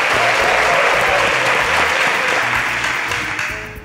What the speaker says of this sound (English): another special round of applause to you, our lovely audience